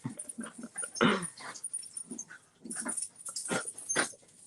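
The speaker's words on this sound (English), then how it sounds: "Oh, the dogs are about to fight as well" Dogs about to fight snarl, whimper and huff in close, uneven bursts, with several sharp loud peaks cutting through between the quieter growls.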